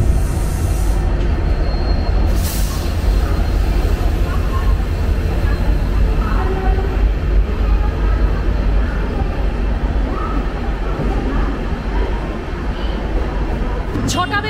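The Shatabdi Express from Puri to Howrah rumbles steadily from inside the train, a loud continuous roar with a couple of brief sharper noises near the start.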